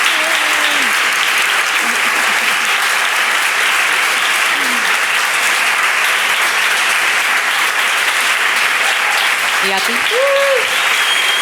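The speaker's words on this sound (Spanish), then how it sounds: "un aplauso enorme a las participantes ponentes" An audience at a free SEO talk event applauds the panel speakers with steady, loud, continuous clapping that fills the whole stretch, while a voice speaks briefly over it near the end.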